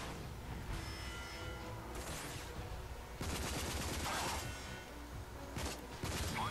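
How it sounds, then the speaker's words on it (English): Video game combat in Rage: dense rapid gunfire, loud and continuous, with a sharper burst that fits a grenade blast midway. No talk. "Oh, grenade, run."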